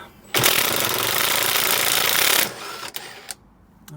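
A power driver rattles loudly and continuously for about two seconds while removing bolts on a motorcycle being restored, then stops, followed by a few faint clinks and knocks.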